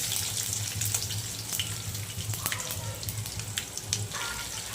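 Chopped onions hit hot oil with mustard seeds, cumin and curry leaves, giving a steady close sizzle with scattered crackles and pops.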